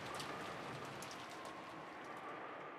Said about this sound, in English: It was very quiet, filled only with the sound of the rain.